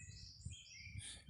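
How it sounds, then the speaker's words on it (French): Birdsong of several small birds, high chirps and tweets sliding in and out, at moderate distance over a low background rumble, with no voices. "il pleut des chants d'oiseaux"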